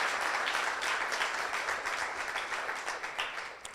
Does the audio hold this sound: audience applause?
yes